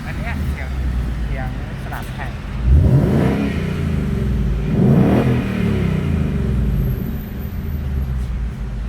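An orange Ford Mustang 5.0 GT is revved twice, each blip rising into a loud, deep V8 roar before it falls back to a burbling idle. The engine rumbles between the two revs.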